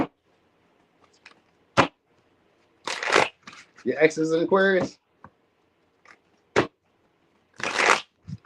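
Several short, crisp bursts of cards being shuffled, scattered between stretches of quiet, with a person speaking briefly in the middle.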